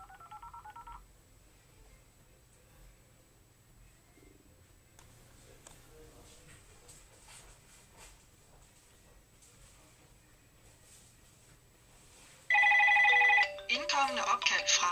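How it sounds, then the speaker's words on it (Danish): Parrot Minikit hands-free car kit connecting a phone call, with a short electronic tone at the start, a long stretch of quiet line hiss, then loud bursts of ringing and dialing tones near the end. "Opkald er i gang."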